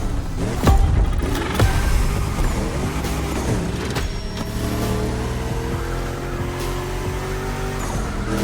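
A DeLorean built as a drift car in the video game The Crew Motorfest, its engine droning and revving steadily with occasional tire noise, loud and continuous throughout.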